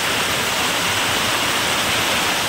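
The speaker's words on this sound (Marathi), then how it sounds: "हे पत्र्यावरून पाणी कसं पडतं मित्रांनो, पूर्ण एक मोटरचं पाणी पडतं मित्रांनो बघा." Heavy monsoon rain pours in a thick stream off a tin sheet roof, a dense, steady roar of falling water that stays loud and constant throughout with no voices.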